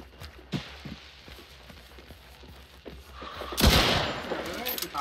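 Gunfire in the video game Hunt: Showdown: a loud, sharp burst of shots lands in the second half, preceded by scattered quieter cracks and thuds against a noisy background.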